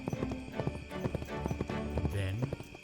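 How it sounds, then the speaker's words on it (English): A horse's hooves clip-clop steadily downhill in a Lone Ranger radio drama, the hoofbeats close and even under a busy music and effects bed. "Finally, the horse started downhill."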